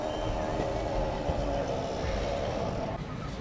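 The Jangipur Road Express rolls into Azimganj Junction station with a steady, loud rumble and hum of the carriages, easing slightly near the end.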